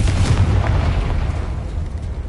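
Confringo fire spell explosion in Hogwarts Legacy, a loud close rumbling blast that decays over about two seconds, no voices.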